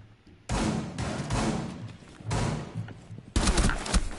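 Rainbow Six Siege gunfire in a bursting round: loud salvos of shots with heavy thumps hit in three or four clustered volleys over a few seconds, close and sharp.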